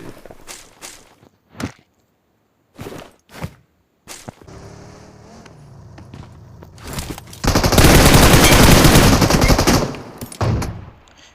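Gunfire in an online shooter video game: scattered single shots and short bursts are followed by a long, loud burst of automatic fire, along with footsteps and brief swishes. No one speaks.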